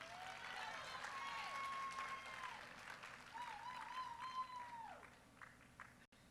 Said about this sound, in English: Let's get another round of applause to these ladies.